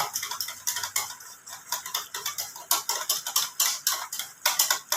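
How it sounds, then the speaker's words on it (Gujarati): Cake batter with milk whisked by hand in one direction, a rapid, steady ticking of the whisk against the bowl, close and clear with no talking. "એક જ ડાયરેક્શનમાં મેં ફેટી લેવાનું."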